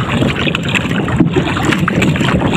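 Strong wind roars steadily across the microphone with a broadband rush at sea, water sloshing beneath it; no voices.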